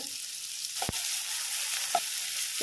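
Onion and garlic with cumin seeds frying in hot oil, a steady close sizzle with a few sharp stirring scrapes.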